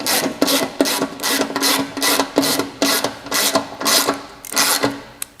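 A 13 mm ratchet tightens bolts on an ASFIR engine skid plate, giving about ten close, loud, rhythmic rasping strokes in quick succession.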